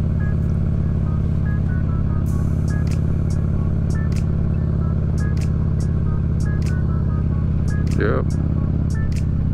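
Dirt motorbikes ridden along a foothills trail make a loud, steady engine drone close by, with a few brief sharper clatters. A rider speaks briefly over it.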